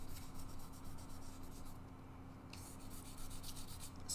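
A wood finish is hand sanded with faint, steady, rhythmic rasping strokes, close and quiet, with no voices.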